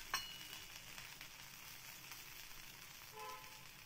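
Ragi thalipeeth frying with oil drizzled around its edges on a pan, a faint, steady sizzle with a brief sharp clink near the start and a light tonal whine toward the end.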